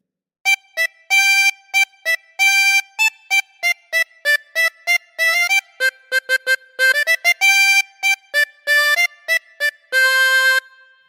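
The full This Old Man melody is played on harmonica as a steady stream of crisp, separate notes, with a few quick runs and one held note near the end, solo and close with no talking.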